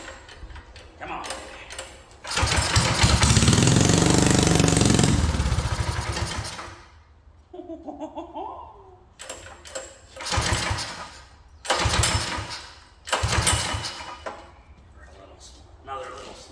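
Big Block Enticer engine revving loudly in bursts with the brake held, a long sustained roar followed by several shorter throttle blips, with a person talking between the revs.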